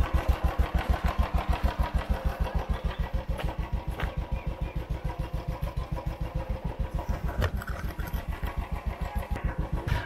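A Royal Enfield motorcycle engine runs close and loud, a steady rapid thump that fires evenly throughout with no voices.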